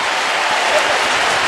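A stadium crowd of about 93,000 at a Georgia versus UAB college football game applauds at halftime, a dense, loud, continuous wash of clapping and cheering filling the space.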